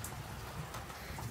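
Rain falling outdoors, a faint, steady hiss and patter that runs evenly throughout with no voices over it.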